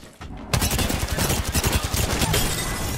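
A loud, rapid burst of gunfire from the video game Apex Legends erupts after a brief lull and continues as a dense, sustained volley.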